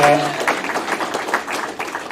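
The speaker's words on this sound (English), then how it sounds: "What a big round of applause for Jars." Crowd at a political campaign gathering gives a round of applause for a guest, a dense wash of clapping with cheering voices mixed in, fairly loud and close throughout.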